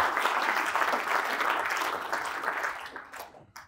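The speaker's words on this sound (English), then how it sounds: "One more big round of applause for Stephanie." An audience at a live comedy-style show gives a big round of applause for Stephanie, steady dense clapping that holds for about three seconds and then thins out and fades at the end.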